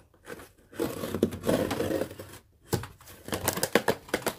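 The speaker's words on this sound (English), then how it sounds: "Cut the top of the box open." A box knife slicing open the top of a cardboard box, scraping and tearing in two bursts with a short pause between, fairly quiet and close.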